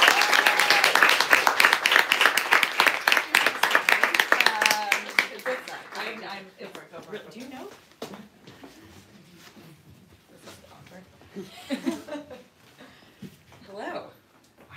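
A Brooklyn bookstore audience breaks into loud, sustained clapping to welcome Sloane Crosley and Emma, the applause fading after several seconds into scattered claps and voices.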